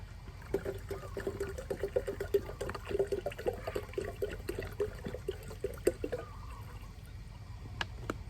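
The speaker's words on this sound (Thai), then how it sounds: "เราใส่น้ำหนึ่งลิตรครึ่งนะคะ" About one and a half litres of water is poured into a container to make a star fruit ferment, giving a close, bubbling trickle with light splashes that runs for several seconds and then trails off.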